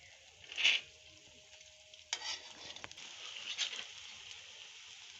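Ragda patties frying on a hot griddle, giving a steady close sizzle with sharp scraping and flipping clatters from a spatula and light crackling bursts of oil, with no voices.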